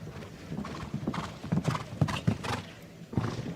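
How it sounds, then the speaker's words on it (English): Horse cantering on the ground during a five-star show jumping team competition, hoofbeats thudding in a steady, energetic rhythm against a wide arena ambience, close and fairly loud. "You can hear the pace, you can hear the horse cantering on the ground there."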